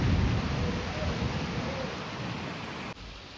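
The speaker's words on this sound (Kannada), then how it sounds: "ಮಳೆ ಬರ್ತಿರೋದಕ್ಕೆ ಫುಲ್ಲು ವೆದರ್ ಕೋಲ್ಡ್ ಇದೆ" Steady rain falls in cold, wet weather, a dense unbroken hiss throughout with no voices.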